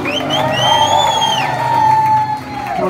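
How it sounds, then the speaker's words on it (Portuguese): A live audience at a pagode concert cheers loudly, a long rising and falling crowd whoop that holds steady for several seconds. "Palmas, grupinha!"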